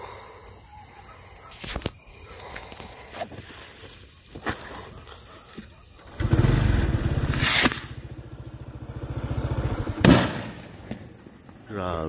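Kwitis rocket firework with a titanium tail launching outdoors, a sharp ignition burst followed by a loud rushing hiss and crackle, with a few pops before and a later burst; people exclaim nearby.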